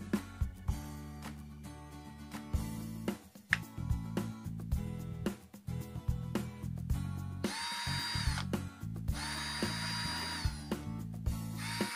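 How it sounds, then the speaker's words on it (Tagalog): A Lotus cordless drill with a single speed and an LED light being test-run: the motor whirs up loudly several times in short bursts, then settles into a longer steady high-pitched spin, close and alone. "Tapos for drilling, ayan drill. Ito drill."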